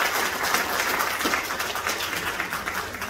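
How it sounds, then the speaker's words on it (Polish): Audience applause at a children's choir concert, a dense continuous patter of many hands clapping in a hall, filling the whole stretch at an even level. "Wielkie brawa, drodzy Państwo."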